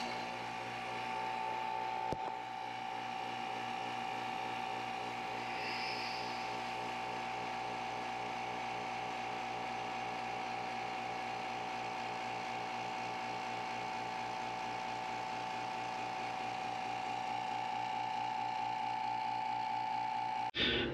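A vacuum pump runs on a resin vacuum chamber with a tempered glass top, giving a steady mechanical drone with a constant tonal hum and a fine rattling texture that holds unchanged for about twenty seconds, with a single click near the start.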